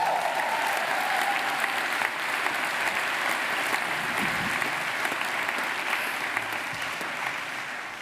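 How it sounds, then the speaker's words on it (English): An audience at an honorary award speech breaks into sustained, even applause, a steady wash of many hands clapping that fades slightly toward the end. "A huge round of applause."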